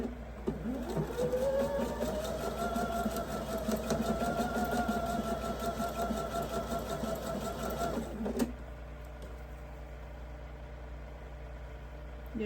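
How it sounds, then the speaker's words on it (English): A sewing machine stitches quilt pieces together in pairs, running steadily at close range for about eight seconds before stopping, followed by a quiet room. "So I am going to sew all of these in little pairs."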